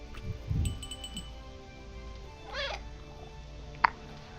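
A cat meows in the video game Popup Dungeon, one clear rising-and-falling cry near the middle, with a faint soft mew and a light clink amid quiet game ambience.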